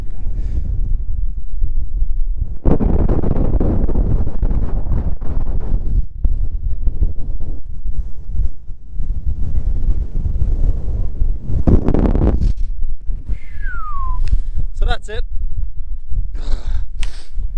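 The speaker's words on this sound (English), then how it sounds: "Very windy and very cold" Strong, cold wind on the summit of Mangerton in County Kerry buffets the microphone in a steady, loud roar, with voices speaking underneath and a few brief whistles near the end.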